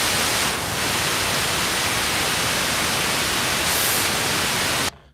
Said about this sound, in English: So there's white noise,